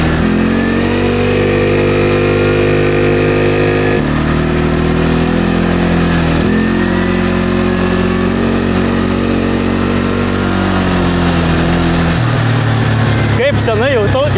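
A moped engine running while being ridden, a steady buzzing drone with changes in pitch as it revs and shifts. It stays loud and close throughout, with a brief clatter near the end.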